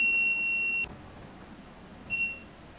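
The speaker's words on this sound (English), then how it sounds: "1 long beep sound will be heard." A smart video doorbell keypad gives one long, steady electronic beep, then falls silent before a second, shorter beep starts near the end.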